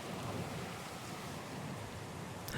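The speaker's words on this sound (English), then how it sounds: "The storm's pretty loud." Heavy rain in a Pillars of Eternity 2 thunderstorm, a dense, loud, continuous downpour with low rumbling beneath and a brief crackle near the end, no voices.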